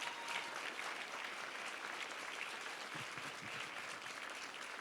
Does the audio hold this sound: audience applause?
yes